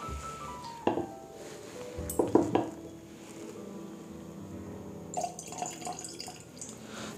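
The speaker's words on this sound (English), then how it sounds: "add a dash of water to it, and let's see what this whiskey has to offer after a dash of water" A dash of water added to a glass of blended Scotch whisky: a few brief drips and light glassy clinks, close and sparse, with quiet pauses between them.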